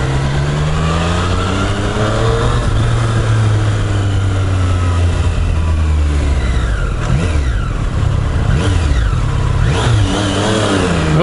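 A Triumph Street Triple 765cc motorcycle engine roars loudly and continuously, revving up through the gears with rising and falling pitch on a winding road, no voices.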